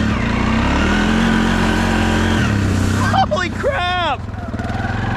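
Honda 300 six-wheel extreme-duty ATV engine droning steadily while climbing over terrain, loud and close, with an excited shout breaking in near the end.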